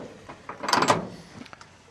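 An old barn door slides open on its track with a short grinding, rumbling scrape that rises and fades over about a second, close by, followed by a few faint knocks.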